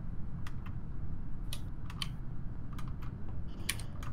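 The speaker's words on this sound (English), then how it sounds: "I have a very mechanical loud keyboard." A loud mechanical keyboard clatters with rapid, irregular bursts of sharp keystrokes, close and clear above a constant low hum, with no talking.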